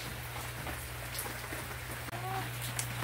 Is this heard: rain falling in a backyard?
yes